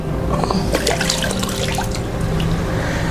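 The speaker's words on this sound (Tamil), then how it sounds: "தண்ணிக்குள்ளாடி நம்ம ஃபோனை எடுத்தாச்சு" An OPPO Reno 13 phone is lifted out of water during an underwater camera test, with a close, continuous wash of sloshing, dripping and trickling water filling the whole stretch.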